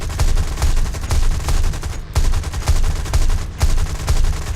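Aircraft machine guns firing in War Thunder on a US tier 5–6 plane chasing bombers, long rapid bursts of dense, loud gunfire with two brief pauses between volleys.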